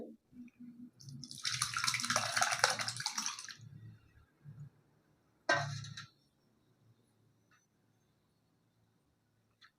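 Hot chhena, vinegar-curdled fresh cheese, strained through a wet white cotton towel: a splashy gush of liquid pouring for a couple of seconds, a shorter second splash, then quiet trickles.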